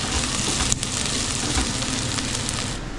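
Onions sizzle and fry steadily in a hot pan while being cooked for chicken biryani. The crackling is dense and continuous at close range, with a few faint clicks and no talk.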